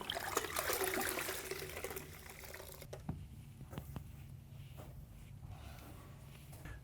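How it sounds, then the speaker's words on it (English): A tiling sponge gets rinsed in a bucket of clean water after a bathroom floor and wall clean, with a steady trickling, sloshing wash at first that fades into quieter drips and small splashes, close by with no talk. "go into the clean water, cleaning our sponge thoroughly"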